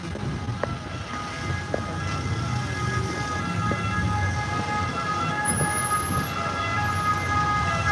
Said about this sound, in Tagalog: Ayaw padaanin ang ambulansya.